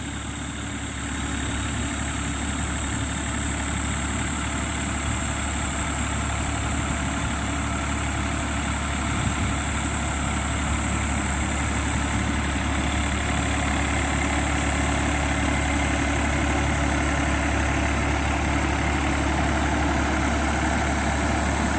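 A heavy engine idles continuously at a steady, loud drone with a low rumble and a constant high whine, with no other sounds.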